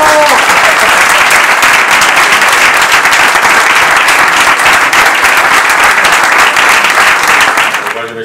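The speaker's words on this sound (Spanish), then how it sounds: "al que yo pido el primer aplauso para él" Audience applause for Tomás Fernández, a dense, steady roar of many hands clapping at full volume throughout, tapering slightly at the very end.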